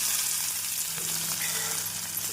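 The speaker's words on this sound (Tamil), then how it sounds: "எண்ணெய் காயவும் ஒரு ஸ்பூன் ஜீரகம் பிரியாணி இலை பொரியவும் பொடியாக நறுக்கிய வெங்காயம்" Oil sizzles and crackles steadily in a hot pan as cumin, bay leaf and chopped onion fry, a continuous close frying hiss with no talking.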